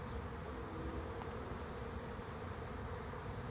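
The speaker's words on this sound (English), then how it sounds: "It's the first swarm I've actually ever seen moving in like this." A honeybee swarm arriving at a swarm trap, a dense, steady buzzing drone of many bees heard outdoors, faint and continuous with no talking.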